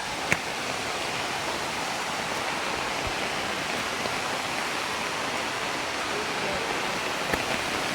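Kanumantad Falls roar as a steady, even rush of falling water that fills the scene at constant loudness, with only a few faint clicks breaking through.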